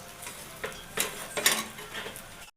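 A bread omelette fries in a pan, giving a quiet sizzle under several light scraping and clinking strokes of a spatula against the pan, and then the sound stops abruptly.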